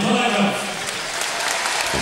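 Applause for both boxers after a professional boxing bout, a dense, steady clatter of a large arena crowd clapping throughout, with a commentator's voice speaking over it.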